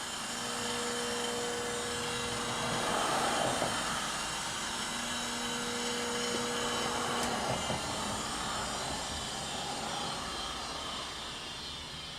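An ACER Supra A618II surface grinder's electric motor runs with a steady, loud whirring hum and faint tonal whine that continues unbroken throughout.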